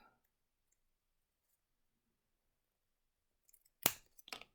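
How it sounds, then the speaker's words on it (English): Scissors snip through paper while trimming a folded paper star, a couple of close, crisp cuts near the end after a long quiet stretch. "and we're going to grab a scissors"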